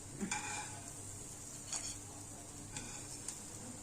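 Vadas made from fanda leaves fry in hot oil with a steady close sizzle, while a few brief scrapes and taps from stirring stand out at intervals.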